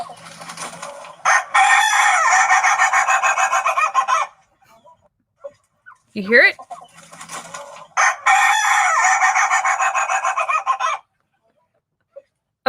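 A rooster crows in two long loud calls, close by, between them a shorter squawk and hen-like clucks, with a brief voice speaking once near the start.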